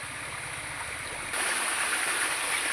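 Rainwater runs along a channel being diverted into a farm plot, a steady rushing flow that swells louder about halfway through, with no one speaking.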